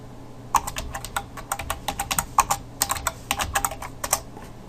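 A computer keyboard clacks as a sudo command is typed on a Linux machine, bursts of quick close keystrokes with brief pauses, no talking.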